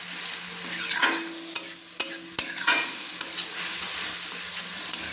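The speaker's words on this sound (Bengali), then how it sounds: "মশলাতে আমি একটু জল দিয়ে দিলাম, অল্প জল দিয়ে দিলাম, দিয়ে মশলাটাকে আমি নেড়ে নিলাম।" Spice paste loosened with a little water and stirred in hot oil in a pan, a close bubbling sizzle broken by several sharp clacks of the spoon against the pan, with no talk.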